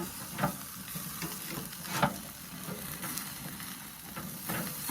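Tomahawk steak sizzling on a smoky grill, a steady broadband frying hiss with a few louder crackling bursts, close and continuous with no talk.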